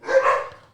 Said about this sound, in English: Sorry about the dogs right now.